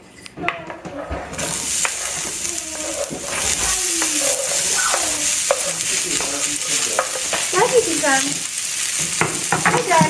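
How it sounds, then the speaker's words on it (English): Celery and half an onion sauteing in a pan, a continuous loud sizzle and crackle with repeated scraping stirs and occasional clinks of the utensil against the pan, carrying on throughout. "So we've got our celery and our half an onion sauteing in the pan."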